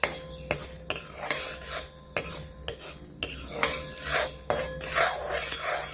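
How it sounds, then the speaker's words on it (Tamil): Hot oil or ghee crackles and pops in a pan with sharp, irregular snaps over a steady sizzle, along with occasional scraping of a utensil stirring. "எண்ணெய் காஞ்சிடுச்சுன்னா பட்டப்பட்டான்னு சத்தம் வரும்."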